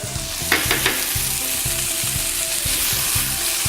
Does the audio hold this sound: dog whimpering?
no